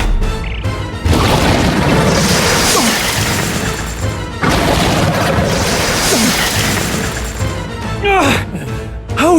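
Fire magic erupts in Metaphor ReFantazio as loud crashing blasts, two long roaring bursts separated by a brief dip, with whooshing flame texture and a voice shouting over the din.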